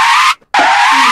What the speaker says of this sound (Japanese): キヨのブレーキ音だこれ。